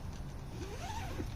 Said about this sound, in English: you can just actually unzip the entire window